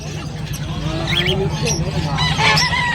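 Several birds, including pigeons, honk and chirp close by in a busy pet market, with overlapping calls and a steady low hum beneath.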